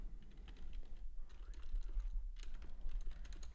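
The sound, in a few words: typing on a computer keyboard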